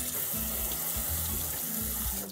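Tap water pours steadily into a kitchen sink, a continuous close rushing and splashing with no voices.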